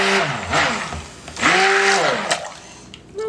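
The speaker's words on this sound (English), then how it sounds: "my stick blender has seen better days" A worn stick blender mixes a batch of cold process soap in short bursts, its motor whirring loudly and rising and falling as it churns the liquid.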